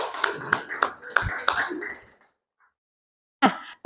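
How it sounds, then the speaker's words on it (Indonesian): Classmates give a student a quick round of clapping in a school lesson, several sharp, loosely rhythmic claps mixed with voices, then a pause and a brief final burst. "Tepuk tangan untuk Mbak Syakira"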